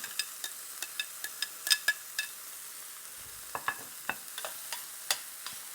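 Shallots and green onion bottoms are stirred in a frying pan for chicken marsala, with a soft sizzle under sparse, light utensil scrapes and taps against the pan.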